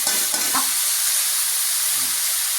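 Onion greens being stirred in a hot pan with fried onion, chilli and turmeric, a steady sizzling hiss with a few scraping strokes at the start and near the end, close and continuous without talk.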